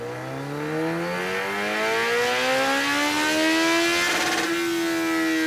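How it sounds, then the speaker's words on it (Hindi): Engine revving hard on a dyno rig at India Bike Week, pitch climbing steadily in a long rising sweep before levelling off at high revs, loud and close with no talk. "डायनो टेस्टिंग चल रही है।"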